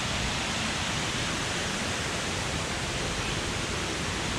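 Kroeng Krawia waterfall in western Thailand rushes as a dense, steady roar, close and unbroken, with no voices.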